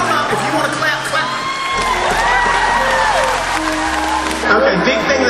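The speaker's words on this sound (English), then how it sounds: "If you want to clap, clap." Applause and cheering from a live stage-show audience, loud and sustained, with whoops and voices over dense clapping and music underneath.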